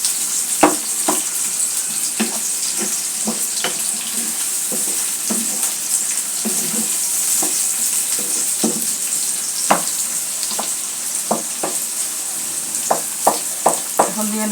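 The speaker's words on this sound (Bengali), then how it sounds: "এখন দিয়ে নেব পেঁয়াজ কুচিগুলো" Chopped onions hiss and crackle as they fry in a hot pan, with a steady sizzle under frequent sharp ticks and pops and occasional stirring knocks. No one speaks.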